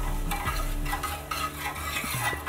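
Milk for carrot and vermicelli payasam stirred continuously in a pot, a close, dense swishing and scraping with occasional utensil knocks against the metal, steady and unbroken, no voices.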